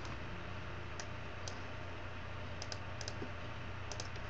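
Quiet computer keyboard typing while entering text in Photoshop: a handful of sparse, crisp keystrokes, some in quick pairs, scattered over a faint steady background hiss.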